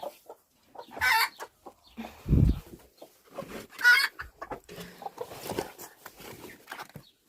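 A broody hen clucks in short bursts, with soft peeping of chicks or turkey poults and scattered rustling around her, close by and fairly quiet between calls.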